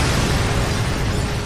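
A bomb blast aboard an aircraft sounds as a sustained, loud, broadband roar that fills the cabin with a dense rumbling wash, heard alone with no talk.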